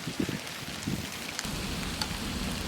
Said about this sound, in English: it's raining and thundering and lightning, so I'm gonna run in